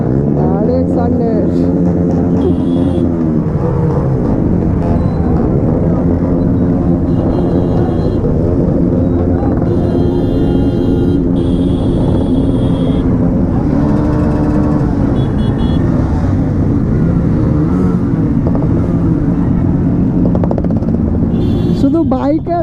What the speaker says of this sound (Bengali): শুধু বাইকের আওয়াজ আর এই যে ভিড়,